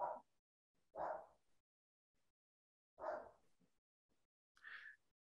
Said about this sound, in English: I'm sorry if you hear a dog in the background.